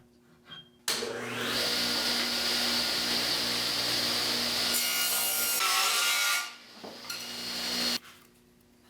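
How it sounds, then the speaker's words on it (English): A saw blade cuts a rabbet in oak stock with a loud, sustained whining roar that lasts several seconds. It drops briefly and then winds down, with the motor hum audible before and after the cut. "Then I raised the blade to the line and cut out a rabbet the router could slide under."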